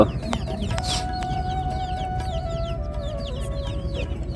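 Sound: chickens clucking

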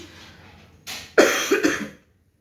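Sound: persistent coughing

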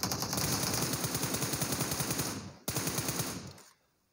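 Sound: gunfire in video game PUBG Mobile

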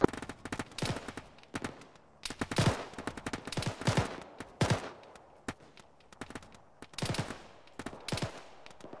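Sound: gunfire in Arma 3 video game

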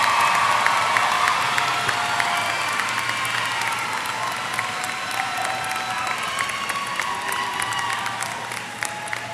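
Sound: applause for scholarship award recipients

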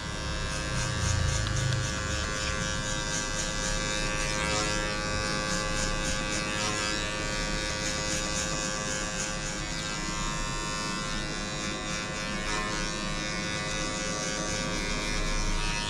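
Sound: electric hair clipper cutting a fade haircut

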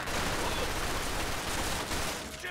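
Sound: gunfire in a video game

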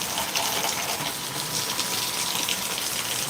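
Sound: rain falling in Panthawada

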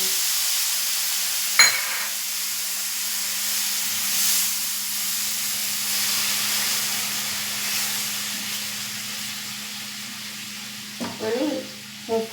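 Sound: milk added to roasted vermicelli, hissing steam

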